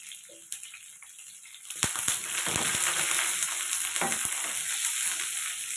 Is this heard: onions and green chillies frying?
yes